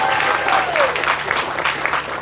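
Applause from a classroom audience at an elementary school graduation, a steady clapping wash lasting a couple of seconds, with a voice partly audible over it.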